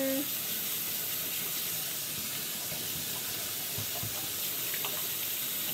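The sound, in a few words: water running from a tap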